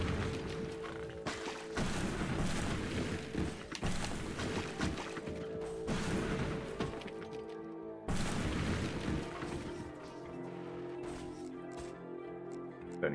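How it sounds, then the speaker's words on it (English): Large TNT explosions in the Steamworld Dig mining game: a dense, sustained roar of booms and crumbling debris that fills the whole stretch, with a fresh loud burst partway through and heavy thuds beneath. "This is the big TNT explosion room"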